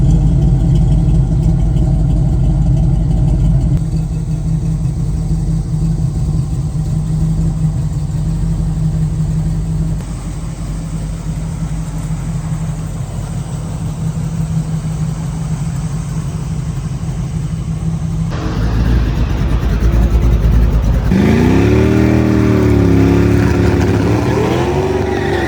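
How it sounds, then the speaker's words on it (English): A 1979 Camaro engine idles steadily and loudly up close, with a high-pitched squealing belt under the hood, then revs up and down near the end. "You can definitely hear the belt squealing under the hood."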